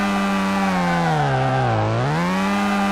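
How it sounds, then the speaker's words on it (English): A Mazda RX-7 rotary engine in Car Mechanic Simulator 2018 revs with a loud, buzzy, harmonic-rich whine. The pitch dips briefly and then climbs back up, heard alone without talk. "Sounds like a lawnmower, which is what a rotary engine is"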